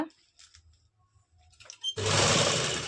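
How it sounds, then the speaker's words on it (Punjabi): A sewing machine stitches fabric with an even seam margin, starting after faint handling noises and then running steadily and loudly for about the last second. "ਇੱਕੋ ਜਿਹਾ ਮਾਰਜਨ ਰੱਖਦੇ ਹੋਏ ਆਪਾਂ ਸਲਾਈ ਲਗਾਉਣੀ ਆ"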